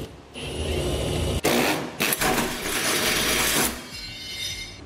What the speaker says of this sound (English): we will now use the appropriate size hole saw as indicated in the instructions to enlarge the hole.